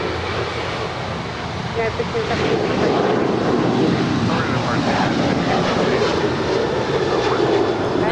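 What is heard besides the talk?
United Airlines jet taking off at LAX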